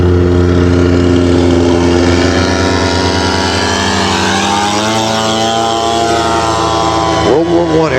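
A giant scale model Sopwith Camel biplane from World War I flies at a Scale Masters event, its engine a loud, steady buzzing drone that shifts in pitch near the end as it passes, with a commentator's voice over it.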